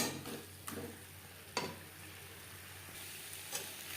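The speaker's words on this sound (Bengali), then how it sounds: "হাই টু মিডিয়াম ফ্লেমে 3-4 মিনিট নাড়াচাড়া করে নেব।" Pointed gourd (potol) is stirred with spices in a pan over high-medium flame. A quiet background sizzle is broken by a few soft, separate scrapes and taps of the spoon.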